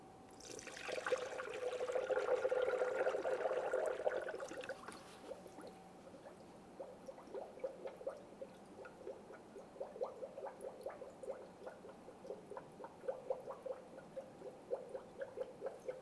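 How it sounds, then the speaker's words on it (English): Universal coolant poured into a Mitsubishi Lancer's coolant reservoir, a soft gurgling pour for a few seconds followed by faint, irregular trickles and drips, quiet and close. "I'll be using universal coolant for this."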